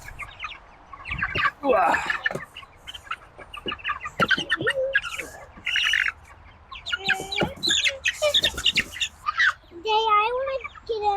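Chickens cluck and squawk close by inside a DIY urban chicken tractor, busy bursts of calls throughout, with people talking and reacting over them.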